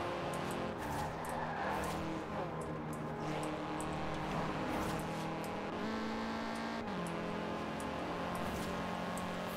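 Cars from the racing game Forza Horizon 4 drive past one another with steady engine hum and occasional tire skids, a continuous layered mix of motors at moderate loudness with no talking.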